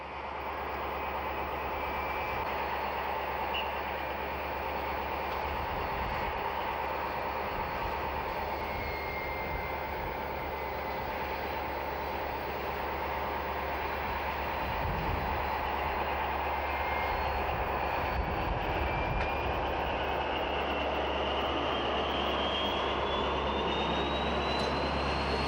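The Cévenol express train runs through the Allier gorges in a steady, continuous rumble with a faint whining tone gliding upward partway through, holding one loudness throughout with no voices.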